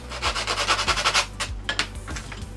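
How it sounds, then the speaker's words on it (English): Sandpaper rubs over small cut wooden pieces for a dice tower in quick, rhythmic back-and-forth strokes, close and fairly loud, with a few slower, separate passes near the end. "So I just need to sand them back,"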